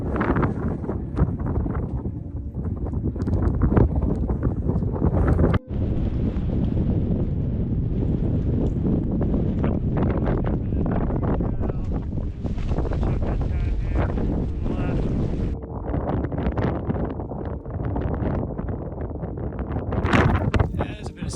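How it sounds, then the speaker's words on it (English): Blustery gusts batter the microphone on the Mt. Adams summit in New England, a loud, continuous roaring wind that dips briefly and fluctuates in strength, with a person talking intermittently through it. "Yeah, blustery up here."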